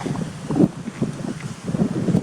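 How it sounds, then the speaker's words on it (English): Outdoor wind buffets the microphone in low, uneven gusts beside a 2012 4-ton Rheem Value Series heat pump with a Copeland scroll compressor, its fan blades turning in the breeze; no one speaks. "The wind is blowing the blades."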